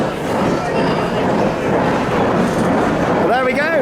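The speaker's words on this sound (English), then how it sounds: "Onto the ghost train now." Ghost train ride cars rolling along rails at a seaside pleasure beach, a loud, continuous rumbling clatter close by, with a few rising squeals near the end.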